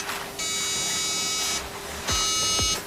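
A glue dispensing machine on a smartphone assembly line, applying adhesive for the back shell, gives off two bright buzzing bursts, a long one and then a shorter one, over a low constant factory hum.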